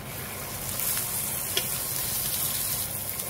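Food is stirred in hot frying oil in a pan, giving a steady close sizzle broken by occasional scraping strokes and small pops.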